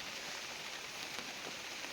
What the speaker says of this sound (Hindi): पुणी वर्षा हो झिपिझिपि वर्षा हो